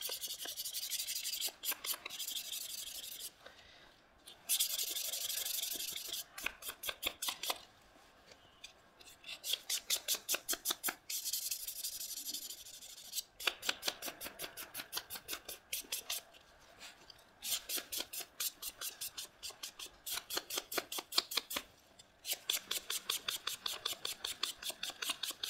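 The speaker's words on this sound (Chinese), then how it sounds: "1200目的直接上，直接打磨。" Vegetable-tanned leather edge sanded with 1200-grit sandpaper while still slightly damp: close, rhythmic rasping strokes come in quick repeated bursts with short pauses, and no one speaks.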